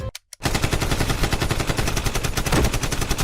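Rapid automatic gunfire in a LEGO stop-motion scene, a dense, loud, continuous stream of shots that runs steadily after a brief silent gap at the start, with no voices.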